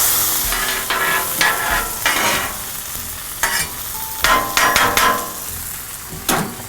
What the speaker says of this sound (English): I'm gonna go ahead and mix these onions in with the potatoes.